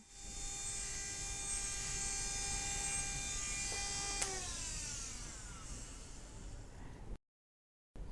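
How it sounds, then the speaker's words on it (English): A Dremel rotary tool fitted with a burr trims a gypsum dental model, a steady high-pitched motor whine with a bright buzzing edge that holds evenly, then spins down and fades out. "a Dremel with a burr to remove any excess gypsum from the art and anatomic portions of the"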